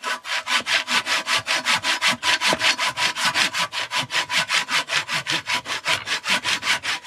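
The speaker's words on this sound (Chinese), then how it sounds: "我在锯东西呢，看我在锯木头呢" A hand saw cuts through wood in quick, even back-and-forth strokes, around four or five per second, close and clear with no talking.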